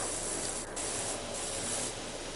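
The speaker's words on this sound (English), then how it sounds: "I was like spraying the fuck out of it for like ever" A steady, hissing rush of a power washer spraying in the video game Powerwash Simulator, constant and unbroken throughout with no talk over it.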